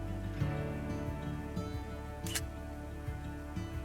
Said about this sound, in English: I'll go ahead and press the shutter. So now a photo is being captured.